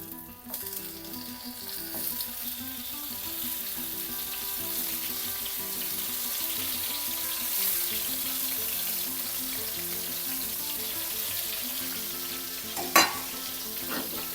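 Tomato pieces frying in a pan for an aubergine omelette, a steady close sizzle that runs unbroken and even for the whole stretch, with one brief utensil clink near the end and no talking.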